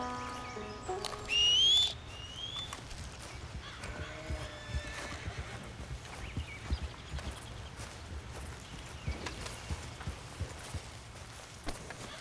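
A horse in the Western video game Red Dead Redemption 2 gives one loud, shrill neigh early on, followed by steady clip-clop hoofbeats and rustling movement across an outdoor scene.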